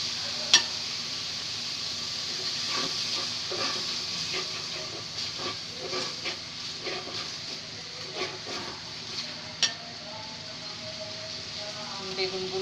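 Shrimp being added to a pan of fried chili, with a steady hiss of frying and intermittent stirring clinks and scrapes running throughout at moderate level.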